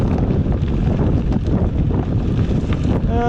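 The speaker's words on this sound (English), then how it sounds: "little windy out here. Got some headwind coming out of the west" Steady wind buffeting the microphone on a gravel bike ride, a loud continuous low rumble throughout with no voices.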